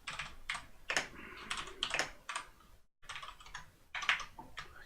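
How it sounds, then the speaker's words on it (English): Fingers type quickly on a computer keyboard up close, keys clattering in uneven bursts with a brief pause midway, and no voices. "My English typing is apparently as good as my as my English speaking"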